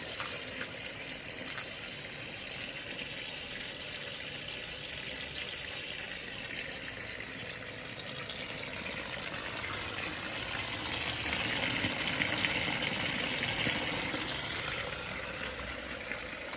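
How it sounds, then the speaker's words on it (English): Steady rushing water runs continuously through a yard drain, swelling slightly louder toward the end as the flow pours and drains through a grate. "See, all that water is running."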